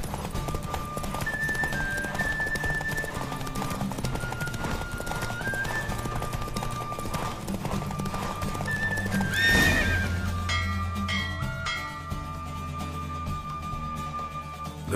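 Galloping hooves clip-clop steadily through a horse race in The Witcher 3 while the horse neighs and whinnies, with game music and effects layered underneath and a sharp swell near the middle.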